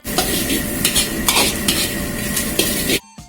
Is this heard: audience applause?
no